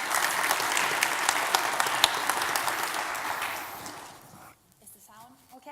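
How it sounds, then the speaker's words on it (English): Audience applause welcoming a speaker to the stage at a tech presentation fills the room with dense clapping for about four seconds, then fades out, followed by a moment of quiet and a faint voice. "Please give a warm welcome to one of our lead data scientists, Ingvild, Lyckander"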